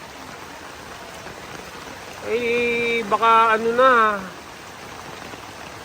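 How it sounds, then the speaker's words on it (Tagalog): Continuous rain and rushing floodwater pouring into a subdivision make a steady wash of noise, while someone speaks briefly over it partway through. "Yung tubig pala ng ulan, papasok dito sa subdivision eh."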